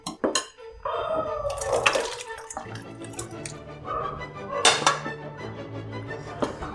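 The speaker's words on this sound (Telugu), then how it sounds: "సో ఇప్పుడు మనం ముందుగా ప్రిపేర్ చేసుకున్న మటన్ వేసుకుందాం." Prepared mutton going into a pot of Hyderabadi haleem: clattering pot and utensil knocks with wet splashy drops, close and irregular, and a voice speaks faintly.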